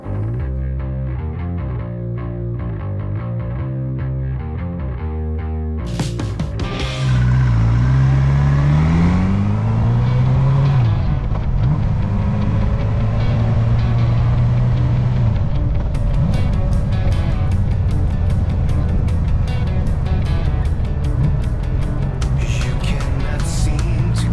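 A café racer motorcycle rumbles at idle, then roars away with rising and falling revs through gear changes, loud, close and steady throughout the ride.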